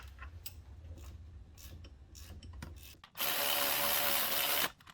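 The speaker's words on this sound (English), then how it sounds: "I'm just gonna go real soft at it with a ratchet" A ratchet works a nut on a Lexus IS250 during an alternator replacement, with faint clicks and rubbing scrapes at first, then a louder sustained grinding rasp for over a second before it stops.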